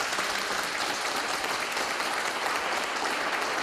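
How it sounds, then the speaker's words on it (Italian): A crowd of supporters at an election-night celebration claps loudly and densely, a brief burst of continuous applause with no talk over it. "Fatevi sentire un applauso"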